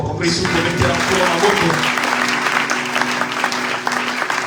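Church congregation applauding loudly and steadily throughout, a dense wash of clapping with cheering voices mixed in, close and sustained without pause.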